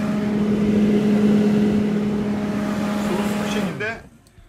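A Tofaş car's heater fan motor runs at second speed with a steady, close whirring hum and airflow, then winds down and cuts off near the end.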